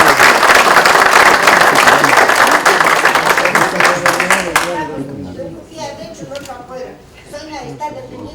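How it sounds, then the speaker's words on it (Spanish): Audience applause at a seminar on the rights of older adults, a dense burst of clapping from a crowd that swells loud and then fades out midway, leaving scattered claps under a voice speaking. "yo pido un aplauso para él"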